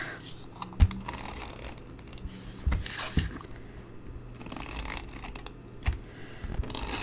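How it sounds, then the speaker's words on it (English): A tape runner is used while making a card: soft clicks, rustling and crinkling handling noises in uneven bursts, close and fairly quiet, with no talk. "I'm just going to use my little tape runner"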